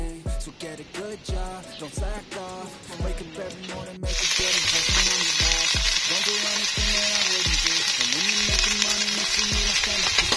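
Onion and tomato sautéing in a pan for tinola, with a steady sizzle under rhythmic stirring and scraping that jumps to a louder, brighter hiss about four seconds in and holds.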